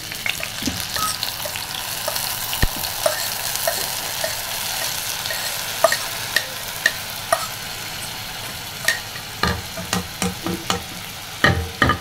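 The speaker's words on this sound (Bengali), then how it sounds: "এখানে আমি আগে থেকেই কড়াইয়ের মধ্যে তেল দিয়ে কড়াইটাকে গরম হতে দিয়েছি। তো এবার হচ্ছে আমি এটাকে ঢেলে দিব।" Potatoes poured into oil already heated in a kadai fry with a steady, bright sizzle, while scattered spatters and pops grow sharper and more frequent toward the end; no one speaks.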